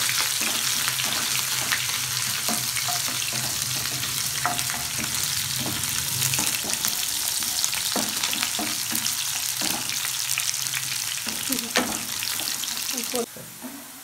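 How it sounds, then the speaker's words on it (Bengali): Onions fry until brown in the oil left from frying potatoes for a mutton potato curry, with a dense, loud, steady sizzle and repeated stirring scrapes close by, ending with a slight drop in level near the end. "পেঁয়াজটাকে ব্রাউন করে ভেজে নেব।"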